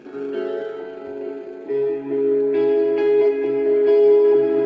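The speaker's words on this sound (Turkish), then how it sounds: "Bluetooth'tan buraya şarkıyı aktarmış olduk" A song streamed over Bluetooth plays through the small speaker of a karaoke microphone, a steady melodic tune at moderate volume with no talking over it.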